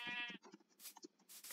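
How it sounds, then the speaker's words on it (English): A Minecraft sheep bleats in a short, wavering call followed by a few breathy in-game sounds, fairly close and clear with no talking over it. "Sheep?"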